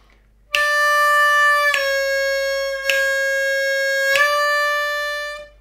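Blues harmonica on the 4 draw, held reedy tones with four sharp attacks and slight pitch dips where the note bends down, close and fairly loud, with no talking.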